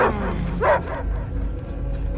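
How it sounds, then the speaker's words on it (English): A dog barks twice in a video game, close and loud, with yipping tones over a low background rumble. "I hear only barking."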